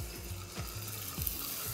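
Scallops searing in a hot pan in a restaurant kitchen, a steady close sizzle and crackle with a few soft knocks from the pan, no voices.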